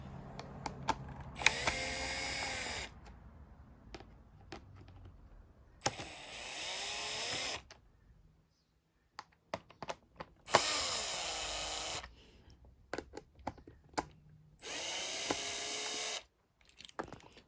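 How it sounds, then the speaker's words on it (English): A power drill whirs in four short bursts of a second or two each, removing screws on a 1990-1997 Mazda MX-5 Miata, separated by clicks and handling clatter, close and fairly loud. "So I'll quickly buzz those out with the drill."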